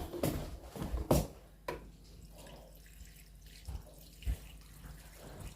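Water is poured over garden plants in a few soft splashes and drips, quiet and intermittent against a faint background hum.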